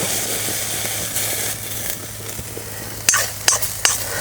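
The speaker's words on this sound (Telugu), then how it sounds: "నీరంతా ఎగిరిపోయే వరకు మునగాకును వేయించుకోవాలి." Moringa leaves fry in a pan until their water cooks off, giving a loud, close, steady hiss, with a few sharp scrapes and clicks of a spatula stirring them near the end.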